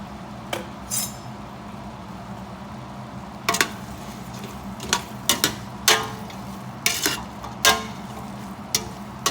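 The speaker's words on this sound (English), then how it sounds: "And then I'm going to stir it up." Green beans with bacon and Conrico seasoning being stirred in a pan, irregular scraping and clinking strokes of a spoon against metal over a faint background hum, with quiet pauses between strokes.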